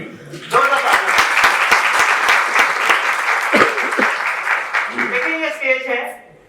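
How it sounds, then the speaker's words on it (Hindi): Loud audience applause at a Universal Children's Day stage event in Pakistan, a steady burst of many hands clapping that swells up and carries on for several seconds before fading, with a voice talking over it near the end. "जरा तालियां बजाइए, जोरदार तालियां।"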